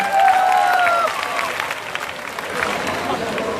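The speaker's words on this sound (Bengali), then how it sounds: "একটু তালি হবে সবার।" A live comedy show audience claps and cheers across the room, a loud wash of applause that eases off slightly, with a whistle at the start and voices in the crowd.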